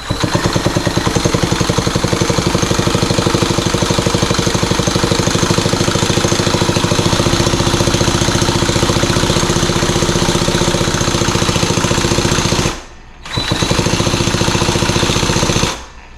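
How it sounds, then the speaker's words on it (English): A MacCat 18 chainsaw engine with its spark plug removed is spun steadily by a drill, giving a continuous, fast mechanical whirring churn at close range that pauses briefly near the end before resuming; no one speaks. "I've got my drill set up over here to turn the engine"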